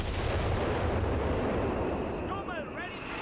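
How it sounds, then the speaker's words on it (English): Base howitzer artillery fire in a Company of Heroes 3 match: a dense, sustained rumble of booming shell fire that fills the whole stretch, with a few whistling tones near the end. "A bit of base howitzer action into the middle."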